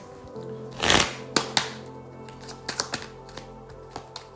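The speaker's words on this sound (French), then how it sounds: "je remets les cartes comme il faut" Tarot cards being shuffled and straightened by hand, a burst of riffling followed by a series of crisp taps and clicks as the deck is squared, close and fairly quiet, no talking.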